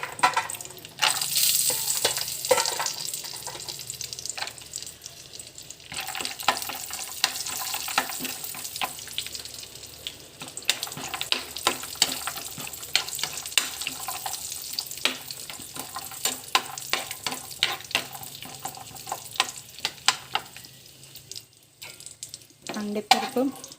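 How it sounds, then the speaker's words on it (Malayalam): Cashew nuts frying in oil for chicken biryani, a continuous close sizzle with frequent sharp crackles and spoon or pan clinks throughout, with no talk. "ഇനി അണ്ടിപ്പരിപ്പ് ഇട്ട് കൊടുക്കുവാണേ."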